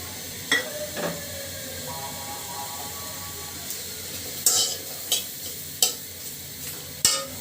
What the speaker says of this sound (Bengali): এখানে পেঁয়াজ মরিচ কেটে রেখেছি ঢেলে দিচ্ছে ভিতরে